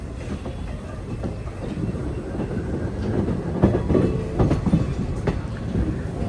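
A train shunting at Chennai Egmore station: loud, close rumble of railway cars with rhythmic wheel clatter and metallic clanks building toward the middle.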